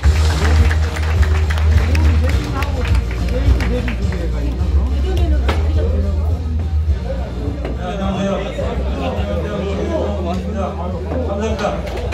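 An audience at a Korean suiseki stone exhibition event applauds for introduced guests, dense clapping under crowd babble and continuous speech, loud and close throughout.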